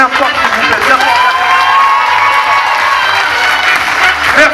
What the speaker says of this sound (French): On peut les applaudir bien fort, s'il vous plaît, bien fort.